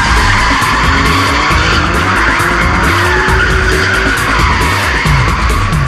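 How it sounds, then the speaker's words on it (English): A high-powered car drifting on a public road, tyres squealing continuously and loudly over a revving engine roar that rises and falls in rhythmic pulses. "Hoons in high-powered cars racing and weaving on public roads."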